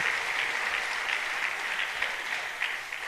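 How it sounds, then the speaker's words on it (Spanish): A church congregation applauds in a steady, dense wash of many hands that holds at an even level for a few seconds, somewhat distant and without speech on top. "Dele palmas al Rey de Reyes."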